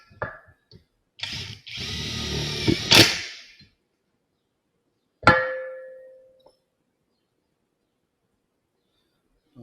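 A Nanwei 350 N·m 1/2-inch impact wrench drives a steel bolt and nut in two bursts: a sustained loud whirring, hammering run of about two seconds, then after a pause a second short hit that quickly trails away.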